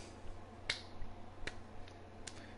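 Three sharp, isolated hand claps spaced roughly evenly apart, close and crisp against a quiet, faintly humming background.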